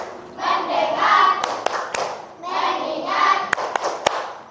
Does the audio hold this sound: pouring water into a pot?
no